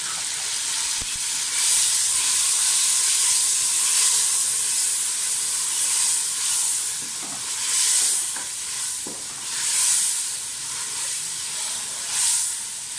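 Tomatoes and yogurt fry in a pan for spicy chicken pulao, a loud continuous sizzle with occasional stirring scrapes swelling and easing throughout, close and with no talking.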